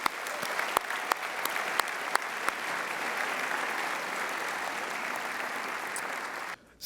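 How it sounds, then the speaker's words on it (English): A graduation ceremony audience gives a performer a round of applause, dense steady clapping with a few sharp nearby claps standing out, cutting off abruptly at the end. "Let's give him another round of applause, please."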